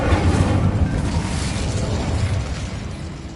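An Incendio fire spell in Hogwarts Legacy roars out as a loud, bursting blast that keeps rumbling and crackling steadily for several seconds, with no voices.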